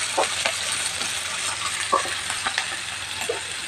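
Onions and green chillies fry in hot oil, a steady close sizzle broken by a few light clinks and stirring scrapes of a spoon against the pan.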